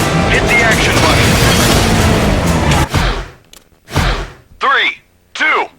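An explosion in the video game Stuntman Ignition roars as a loud, sustained burst of noise for about three seconds, then cuts off, followed by a few short voiced exclamations.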